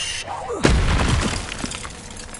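A Confringo fire spell from a Hogwarts wizarding video game erupts in a sharp, loud blast with a low boom and crackling debris that trails off over about two seconds.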